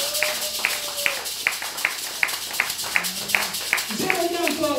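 A church congregation claps in a steady, evenly spaced rhythm, each sharp clap standing out while a voice speaks and sings over the top throughout.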